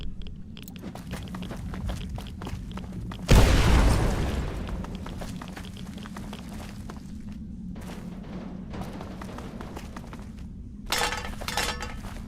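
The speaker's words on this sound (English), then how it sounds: "that's definitely a bomb." A bomb goes off in the video game Fallout, a single loud, close blast that bursts suddenly and rolls off over a couple of seconds above a steady game ambience, followed later by a smaller crash.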